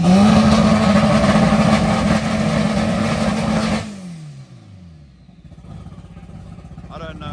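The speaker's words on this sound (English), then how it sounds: "This is the high boost Civic." A very loud high-boost Honda Civic drag car engine roars steadily at full throttle close by, then cuts off and fades away into quieter crowd ambience at a drag racing event.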